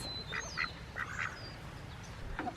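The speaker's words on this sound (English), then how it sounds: "Good job, sweet ducks." Ducks quack in a few short bursts on a homestead, moderately close, with a faint high bird whistle and some background rumble.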